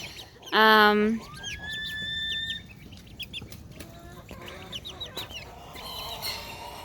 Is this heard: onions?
no